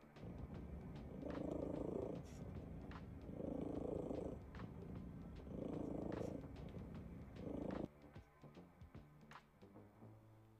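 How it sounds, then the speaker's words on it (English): A deep rumbling purr, heard as a rhythmic cycle of about four swells, each lasting a second or so with short pauses between. It is close and steady and then stops abruptly. "I wish my cat purred like that."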